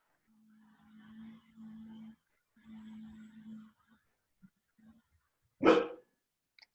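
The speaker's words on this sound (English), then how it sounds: "Sorry, it's my dog." One loud, sharp dog bark bursts out close by near the end, after a stretch of quiet, muffled talking over a low hum.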